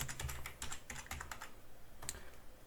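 Rapid, soft clicking of keys on a computer keyboard while typing into a Windows search, a quick burst of strokes with a short pause before a final few taps.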